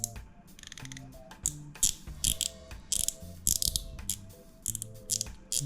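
The drag clicker on a 2024 Shimano Metanium baitcasting reel ratchets in quick, close, crisp clicking runs as the drag loosens, pausing briefly between bursts, with no voices.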